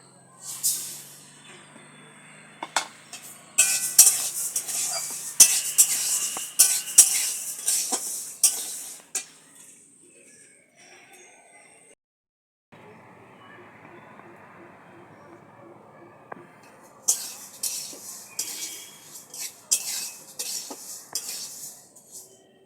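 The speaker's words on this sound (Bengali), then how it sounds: "এবার এই কড়াইতে আমি ডালগুলো ভেজে নেব।" Lentils (dal) are dry-roasted in a wok while a metal spatula scrapes and stirs them in busy, clattering bursts. The stirring pauses midway and then resumes, with speech at times.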